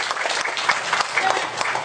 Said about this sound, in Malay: Tepukan gemuruh kepada JPRU Seksyen 4 ini.